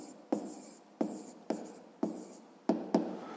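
Pen writing out a fifth-grade math solution by hand on paper, with scratchy strokes in about six rhythmic bursts, close and fairly quiet, no talking.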